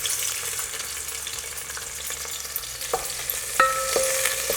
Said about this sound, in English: I'm going to add onion.